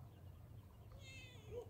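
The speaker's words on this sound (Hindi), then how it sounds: "मेरी बिल्ली आ गई मुझसे मिलने के लिए" A house cat gives a short, faint meow followed by a softer trailing chirp, heard close over a quiet room hum.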